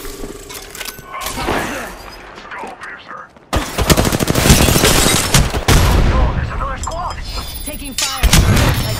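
Heavy gunfire in a video game, with sustained bursts of automatic fire and shots that grow louder midway and keep going. Players talk over the shooting.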